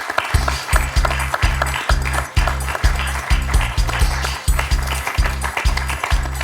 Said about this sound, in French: Et on peut applaudir Michel pour ces 2 points qu'il l'envoie au face-à-face.